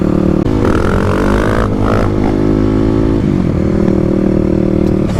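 Kawasaki KLX big bore dirt bike engine revving hard through the gears on the road, loud and close, with a rising pitch that drops at a shift and then climbs again, no talking.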